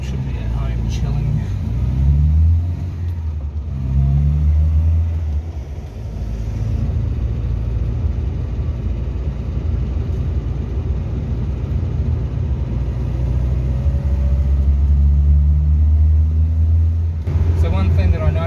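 A steady, loud engine drone with deep road rumble from inside a Hillman Super Minx moving at 80 to 100 km/h on a highway, the hum constant with slight shifts in pitch throughout.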